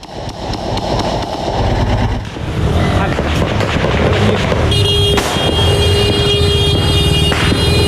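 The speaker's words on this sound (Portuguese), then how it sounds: "Motor, né? Motor. Ó, motor." Motorcycle and car engines pass on a street, with continuous broadband traffic and wind noise, a steady mid-pitched tone entering partway through, and voices talking over it.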